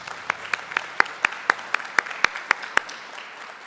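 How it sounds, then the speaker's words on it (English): Audience applause at a Hall of Fame induction ceremony: a dozen or so evenly spaced, sharp claps over a soft bed of lighter clapping, moderately close. "Let's give them a big round of applause,"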